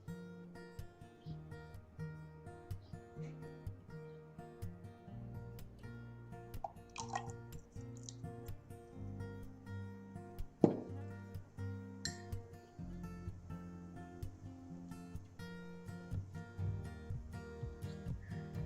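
Sodium bicarbonate stirred into water, fizzing and bubbling with small drips and liquid sounds over a steady low background, a few clinks of a glass container, fairly faint and close, with no talking.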